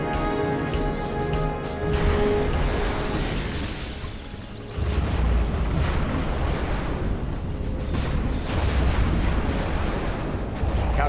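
Cruise missile strike in the Alpine Assault real-time strategy game, a dense, loud roar of explosions and rumbling booms filling the whole span, dipping briefly mid-way before surging again.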